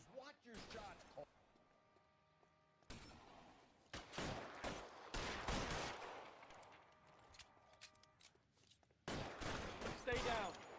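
Gunfire in the LA Noire video game, bursts of loud rapid shots separated by short gaps, with voices talking between and over the volleys.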